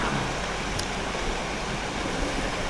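A big river rushes beside a natural swimming spot, a loud, steady, broadband roar of flowing water that continues unbroken throughout, with no voices.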